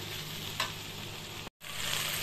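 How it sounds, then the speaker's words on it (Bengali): A paste of green and red chilies sautés in a hot pan for Bengali morola fish jhal, making a dense, steady sizzle with one brief crackle and a short cut to silence midway. "খুব ভালো করে এটাকে কষিয়ে নেব"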